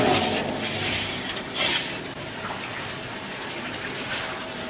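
Milk gushes steadily into a large pan for making Srivilliputhur palkova in a busy kitchen with several stoves, a continuous close pouring rush with brief surges and no talk.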